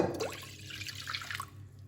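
Warm milk and water are poured into a bowl of bread dough ingredients, giving a soft splashing pour at first that settles into light, close trickling and dripping.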